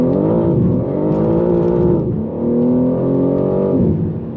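A BMW M3 xDrive accelerates hard with its engine roaring loud and close, holding a steady rising drone, dipping briefly at about two seconds as the revs shift, then pulling strongly again with no talk.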